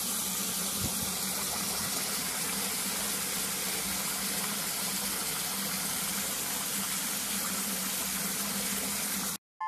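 Water pours steadily into a hydro dipping tank, a constant loud rushing gush that runs unbroken before cutting off abruptly at the end.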